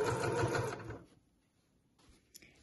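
A sewing machine stitches a straight seam through jacquard fabric for a fold-over clutch bag, a dense rapid whir for about a second that stops abruptly, leaving near silence and a few faint handling clicks.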